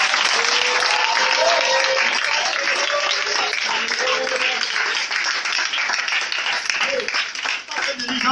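A church congregation applauds and cheers together in a sustained, dense wash of clapping that fills the room, with voices calling out beneath it throughout.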